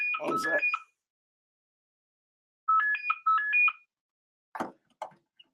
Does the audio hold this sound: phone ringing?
yes